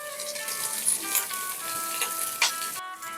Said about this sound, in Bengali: সব কিছু ভালো করে মিশিয়ে নিচ্ছি এবং ভেজে নিচ্ছি